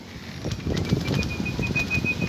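Wings flap in a soft, fluttering burst as a pigeon takes off and flies, with a thin whistle rising over it and some outdoor background noise.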